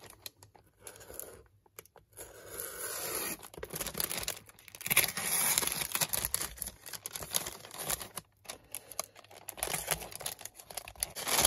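Scissors cut open a padded envelope, with crisp snipping, tearing and crinkling of paper and plastic coming in close bursts between brief quiet pauses.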